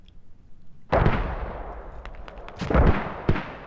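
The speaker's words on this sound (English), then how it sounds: "Looks like we had an explosion." In the Squad video game, a sharp explosion bursts loud and close with a rumbling tail, followed by distant gunfire cracks and another heavy blast.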